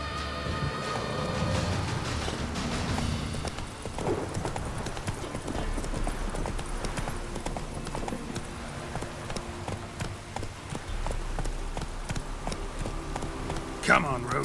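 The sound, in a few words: Roach the horse's hooves clip-clopping, from video game The Witcher 3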